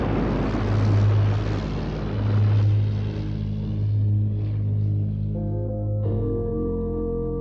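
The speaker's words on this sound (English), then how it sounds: "The airplane became famous for aerial dogfights, but its first mission was reconnaissance." An early airplane engine drones in flight with a steady, pulsing roar that gradually thins and fades, alone with no voices.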